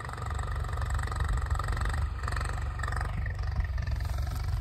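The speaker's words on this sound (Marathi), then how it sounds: "आता ट्रॅक्टर चालवतोय।" A tractor engine running in a farm field where winter wheat is being broadcast, giving a steady low chugging drone with a faint rattle on top that holds evenly throughout, with no talking.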